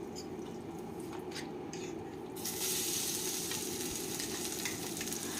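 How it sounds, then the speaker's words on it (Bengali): Ground green peas frying in a pan over medium flame, a steady close sizzle that swells louder partway through, with light stirring underneath. "এখন মিডিয়াম ফ্লেমে 2 মিনিট মটরশুঁটিকে এইভাবে ভেজে নিতে হবে"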